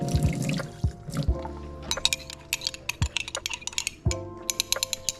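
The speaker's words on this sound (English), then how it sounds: "I'm just going to mix them with a little bit of water so I can get more out of it" Water trickles and drips into a pan holding cooking juices from pan-cooked rainbow trout, with small clinks of metal scattered throughout; close and fairly quiet, no voices.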